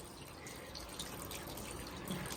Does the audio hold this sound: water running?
yes